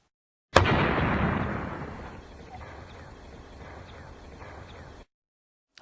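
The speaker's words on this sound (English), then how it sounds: "Now let's watch Nikita fire the gun." A homemade potato gun fires a potato outdoors for a lab experiment: one sharp loud blast that decays into a long rumbling tail, with faint light ticks after it, then silence.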